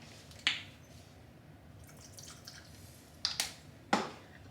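Stevia drops squeezed into iced coffee: quiet, with three small wet plinks, one early and two close together near the end, each separated by near silence.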